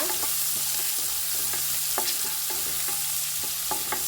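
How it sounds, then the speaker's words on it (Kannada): Mustard seeds sizzling in hot oil for a village-style tempering, a steady loud hiss dotted with sharp, rapid pops and crackles, close and continuous with no voices. "ಇವಾಗ ಒಗ್ಗರಣೆ ಕೊಟ್ಕೊಳ್ಳೋಣ."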